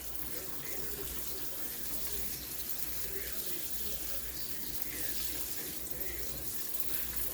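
A cast net being rinsed under running water from a tap, a steady close splashing stream that continues without a break.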